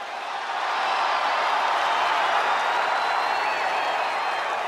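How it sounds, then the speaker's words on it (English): A large wrestling arena crowd roars in a sustained ovation in WWE 2K23, a dense wash of cheering and applause that swells slightly and holds steady throughout. "Listen to this ovation"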